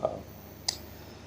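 A single crisp computer mouse click sounds once, close and distinct, against a quiet background.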